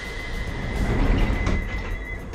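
Metro train ride on the way to an airport terminal, a steady broadband rumble of wheels and carriage with a thin sustained whine above it, continuous and fairly loud, no talking.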